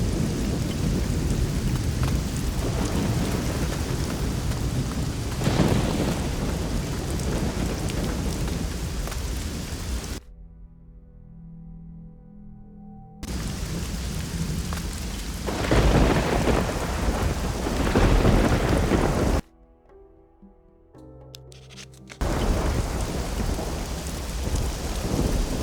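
Heavy rain pours steadily through a thunderstorm in the video game Risen 2, with deep thunder rumbling loud and close; the downpour drops out abruptly twice, leaving only quiet low ambience before resuming.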